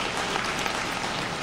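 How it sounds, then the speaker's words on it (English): A brief burst of dense, steady clapping from a crowd at a student poetry awards reading, loud and sustained throughout. "So let's give them a round of applause too"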